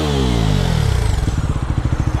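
A 2025 Bajaj Pulsar NS 400Z motorcycle engine revs loudly up close, its pitch sweeping down, then it settles into a fast, throbbing, pulsing exhaust beat.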